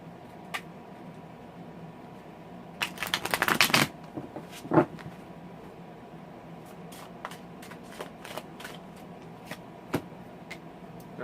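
Santa Muerte tarot cards handled and shuffled, giving a quick burst of riffling close by and then scattered light taps and soft clicks as the cards are laid down in a quiet room.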